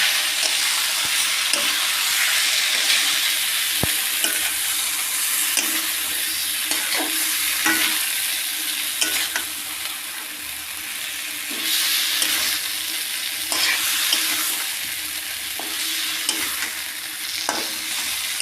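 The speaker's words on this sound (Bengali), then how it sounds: "আলুগুলা দিয়ে দিব। দিয়ে আর ভালো করে মিশিয়ে নেব।" Potatoes fry in a chicken curry while a spoon scrapes and stirs them around the pan, giving a continuous sizzle broken by repeated clinks and scrapes, close up with no talk.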